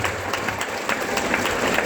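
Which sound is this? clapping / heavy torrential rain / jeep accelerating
clapping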